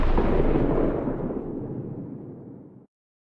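A single heavy gunshot in a video game, a loud booming blast with a long rumbling decay that fades over a few seconds before cutting off.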